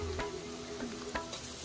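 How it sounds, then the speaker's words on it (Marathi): Green chilli pieces, finely chopped onion and a pinch of turmeric sautéing in a hot oil tempering for chicken thecha fry, giving a steady close sizzle broken by a few sharp stirring clatters. "त्याचबरोबर बारीक चिरलेला कांदा घालूया आणि हे व्यवस्थित परतून घ्यायचे"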